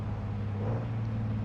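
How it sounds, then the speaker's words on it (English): Truck engine idling in Truck & Logistics Simulator just after start-up, a low steady rumble with a constant hum, quiet and unbroken for a brief moment. "Start the engine."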